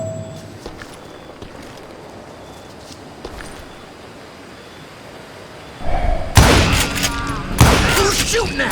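Gunfire erupts in the western game Call of Juarez: Gunslinger, with loud, sharp bursts of shots and impacts arriving suddenly after a quieter ambient stretch, alongside voices talking.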